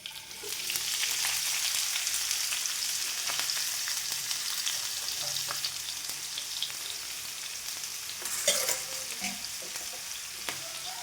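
Chopped onions and green chillies fry in coconut oil in a pan, a loud, steady close-up sizzle with occasional stirring scrapes and no talking.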